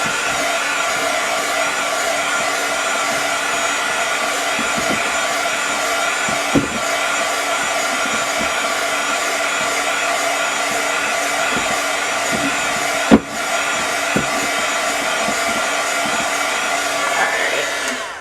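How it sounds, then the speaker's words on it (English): A heat gun blows steadily while heating adhesive vinyl on a cup, a constant airy whine lasting throughout with a couple of brief clicks and bumps. "So now that I passed my heat gun on it"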